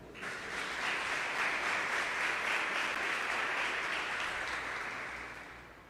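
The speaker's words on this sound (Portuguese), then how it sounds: "Quem crê nisso, aplauda o Senhor." A church congregation claps together in steady, dense applause that swells in quickly, holds loud and even for several seconds, then tapers slightly at the end, with no voices over it.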